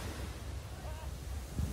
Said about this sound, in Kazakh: Мына толқын келтеді.